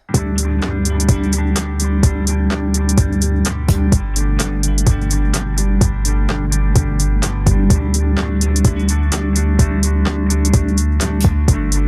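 Layered electronic keyboards using the iZotope Iris Garble Keys preset in a dance track, dense sustained synth chords under a steady pulsing beat with crisp high ticks, loud and continuous.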